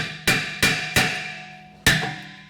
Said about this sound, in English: we're going to hit on the face, just a little small ball peen hammer